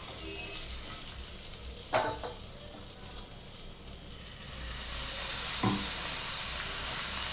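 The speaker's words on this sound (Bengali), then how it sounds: "এবার একটুখানি হালকা করে কাঁকরুলটা ভেজে নেব" Spiny gourd (kakrol) frying lightly in a pan gives a steady sizzle, with two short clatters of stirring partway through and a brighter hiss swelling near the end.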